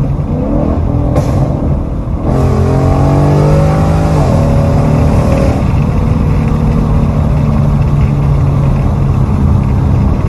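Ford Mustang GT fitted with a 93-octane burble tune from Powerlab Performance: a loud, close engine revving up and settling, with rising and falling exhaust tones and crackling pops over a constant rumble.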